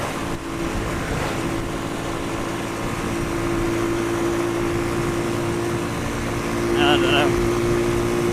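A Pioneer Torro XF125S motorcycle is ridden into the wind, its steady engine drone buried under heavy rushing wind noise, with a brief spoken remark near the start.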